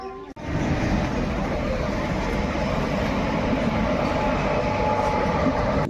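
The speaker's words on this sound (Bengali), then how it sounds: "এখন এখান দিয়ে ট্রেন আসবে, তারপরে রেলগেট তুলবে" A train passing a railway level crossing, a loud continuous roaring rumble with rail clatter that starts abruptly after a brief dip and holds steady to the end, close by.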